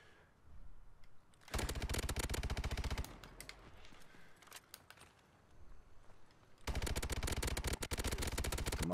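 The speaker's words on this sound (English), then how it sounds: "I'm putting so much bullets into him." Rapid automatic gunfire in Call of Duty Advanced Warfare, with two long dense bursts separated by a quieter stretch of scattered shots, loud and continuous.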